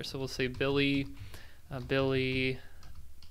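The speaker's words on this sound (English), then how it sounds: "I'll type in some dummy data here" Quiet typing on a computer keyboard as dummy data goes into a web form, soft clicks mostly under a man's speech and continuing alone as a rapid patter at the end.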